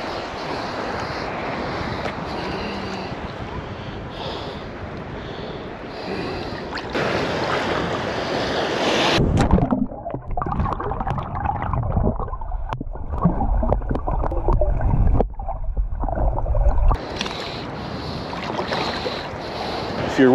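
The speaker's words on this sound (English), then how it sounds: "In these waves, I don't want to lose them." Waves slosh and wash around a small boat on Lake Michigan, a steady close watery rush with wind buffeting. Midway the sound turns muffled and rumbling for several seconds before the open splashing returns.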